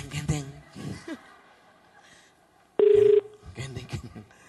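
A telephone keypad tone sounds once as a call is dialed. It is a steady beep lasting about half a second, set between stretches of people talking and laughing.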